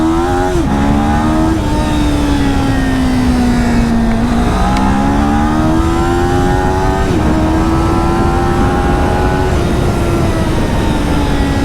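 A Yamaha R3 or Kawasaki Ninja 400 sport motorcycle engine revs hard toward 13,000 RPM, loud and close, with a rising, wavering whine that climbs, dips briefly between pulls and climbs again without any talk.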